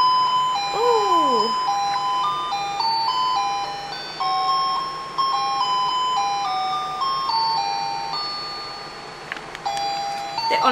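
Musical Christmas lights chime short snippets of different Christmas carols in bright electronic beeping tones, a steady run of melody with a brief sliding whistle near the start, played up close in a room.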